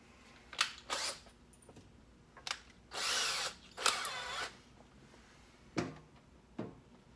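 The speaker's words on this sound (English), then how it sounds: "I need a good drill bit." A power drill drills out a pin to remove the handle from a LAB pin kit, running in several short bursts with one longer run, close and fairly loud, with pauses between.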